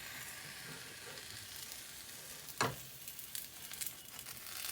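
A Vietnamese crepe (bánh xèo) frying in a pan, giving a steady faint sizzle and hiss with a brief louder crackle midway, no voices over it.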